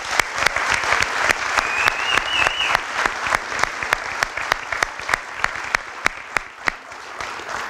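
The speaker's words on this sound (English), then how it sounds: "How about one more big round of applause for the 2014 softball dream team?" Crowd at a fall dream team awards event applauds the 2014 softball dream team, with sustained clapping, sharp regular claps standing out up front, and a brief whistle mid-way.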